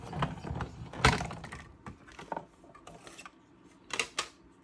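Paper cranked through a Stampin' Up cut and emboss machine, an irregular run of clicking, grinding mechanical rubs and clunks as the handle turns, close and fairly quiet with no talking.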